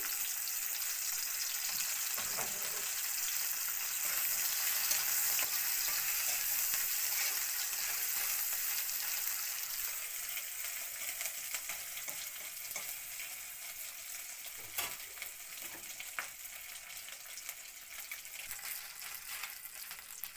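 Dried loitta fish (shutki) sizzling steadily in a hot pan for a Bengali patauri recipe, a dense continuous crackle with occasional stirring scrapes, close and fairly loud, slowly easing toward the end.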